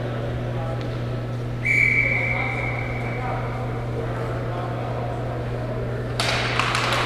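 A referee's whistle gives one clear, sustained blast during a box lacrosse game, heard over the steady hum and murmur of an indoor arena, followed later by a burst of crowd and play noise.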